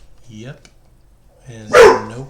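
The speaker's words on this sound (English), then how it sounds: "that's my dog." A single close, loud bark from a house dog, following a person speaking briefly.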